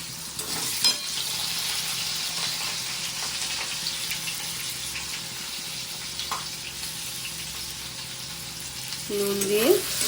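Pieces of rohu fish sizzle gently in a pan, a continuous close hiss lasting several seconds that swells slightly near the end, where a brief tonal squeak or sweep appears. No one talks.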